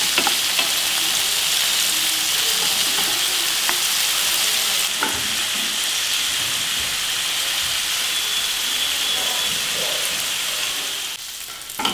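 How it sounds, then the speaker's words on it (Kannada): Chicken tikka pieces frying in shallow oil on a gas stove, a loud continuous hissing sizzle with occasional faint turning clicks, steady throughout and easing slightly at the end. "ಸೊ ಇದನ್ನು ಇಷ್ಟೇ ಎಣ್ಣೆಯಲ್ಲೇ ನಾವು ಫ್ರೈ ಮಾಡ್ಕೊಳ್ಬೇಕಾಗತ್ತೆ."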